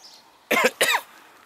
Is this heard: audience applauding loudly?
no